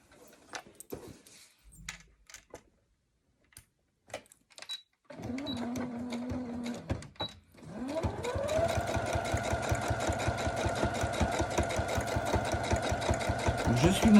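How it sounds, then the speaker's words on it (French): A sewing machine stitches a seam on fabric for a cutlery-holder placemat, starting after some scattered handling sounds and a voice, then running steadily and loudly with a fast even rhythm. "Donc là, je couds."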